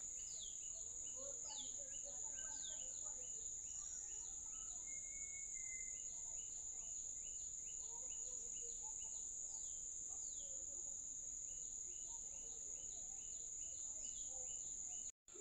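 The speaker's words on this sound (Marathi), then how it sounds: "किलबिलाट पक्ष्यांचा आवाज येतोय." Birds chirp in short bursts at Korigad hill fort, set against a loud, unbroken drone of crickets and insects that carries through the whole stretch.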